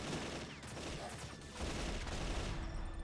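Rapid bursts of laser rifle fire from the Deadly 30 video game crackle as a dense, continuous volley of explosive pops, loud and close, with no talk over it.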